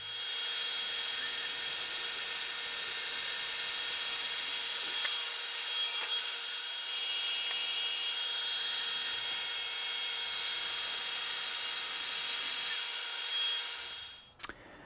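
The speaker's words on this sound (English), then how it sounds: "I'm going to take this to the bandsaw, get these pieces cut up" A bandsaw cuts chunks of tree wood destined for a mortar and pestle, a continuous loud high-pitched whine that surges and eases as pieces are fed through, ending with a sharp knock.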